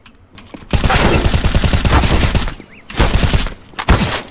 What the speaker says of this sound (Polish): Widzimy wymianę strzał. Kule przelatują zaledwie kilka centymetrów od zawodników.